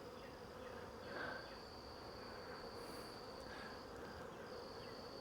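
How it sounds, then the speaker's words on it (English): Honey bees hum steadily around an open hive outdoors, a soft continuous drone with a few bees buzzing closer now and then, no talking. "you can tell these bees are gentle, they're not running fast"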